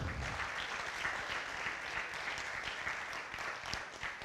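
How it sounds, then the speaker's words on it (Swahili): Steady, dense applause from an audience at a music launch event, continuous and fairly loud throughout with no breaks, a warm wash of many hands clapping at once. "Tumpigie makofi tena."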